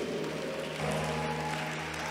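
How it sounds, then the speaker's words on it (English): Applause from an audience, steady and continuous, with no voices rising above it. "Are you clapping your hands?"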